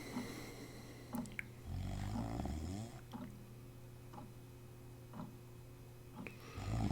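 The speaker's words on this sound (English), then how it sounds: "Somebody is hardcore snoring." A sleeping character in the video game Jenny LeClue Detectivú snores loudly and close, several deep rasping breaths in an uneven rhythm over soft game ambience with small clicks.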